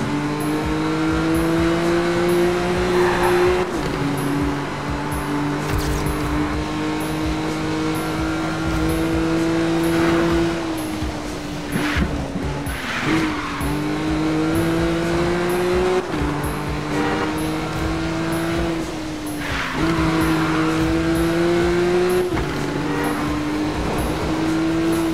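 Cars racing in the video game Need for Speed Rivals on PS3, with a loud, sustained engine drone rising and dropping through gear changes, plus brief tire squeals and passing whooshes, with no talk.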